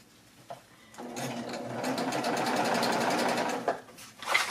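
A sewing machine stitches through the layers of a bag, starting with a short burst, then running steadily for a few seconds up close before stopping, with a brief whir at the end.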